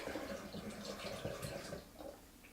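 Apple juice pours into a fermenting jug for homemade hard cider, a close, steady glugging trickle with small splashes running throughout without pause.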